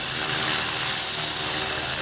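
An RC helicopter hovers close by outdoors on a windy day, its rotor and motor producing a loud, steady whine with a sustained high tone and constant buzz.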